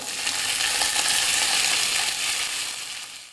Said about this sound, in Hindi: अब डालेंगे हम अदरक, अब इसको हल्का भुनेंगे